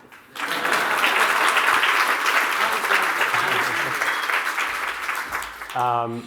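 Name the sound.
audience round of applause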